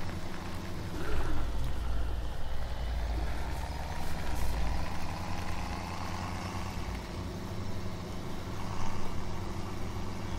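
Tractor engine idling in Farming Simulator 2017, a steady low rumbling drone that continues evenly for the whole stretch with no talk over it.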